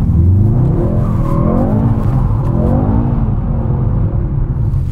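A Mercedes-AMG GT drifting, its engine revving loud and close with rising and falling pitch while the tires squeal and skid continuously throughout.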